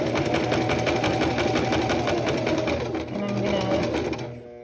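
A sewing machine stitches bias tape around a neckline, running in a fast, steady mechanical whir with a brief dip before slowing and stopping near the end, close and loud.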